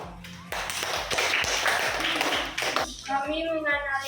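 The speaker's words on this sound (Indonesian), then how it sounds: "baik, tepuk tangan" A classroom of students claps for a student group after its presentation, a short burst of applause mixed with chatter and voices, with desk taps and a voice rising near the end.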